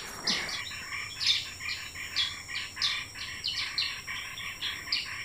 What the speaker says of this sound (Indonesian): Banyak sekali bunyi burungnya.